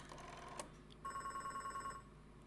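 A telephone rings in the Beacon Pines video game, a quick pulsing electronic trill lasting about a second, moderately loud over a steady background hum.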